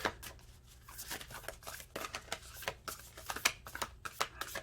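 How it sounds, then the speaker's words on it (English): Oracle cards shuffled in quick riffling bursts, crisp papery flutters and taps repeating close by with no talking. "I'm going to shuffle one more time."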